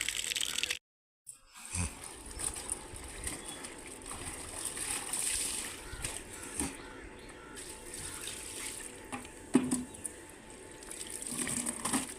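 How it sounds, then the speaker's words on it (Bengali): Clothes are washed under running water, with a steady faint stream from a tap and soft splashing and rustling of wet fabric. There is a brief silent gap near the start and one sharper splash later on. "এগুলো কাপড় ধুয়ে নিই"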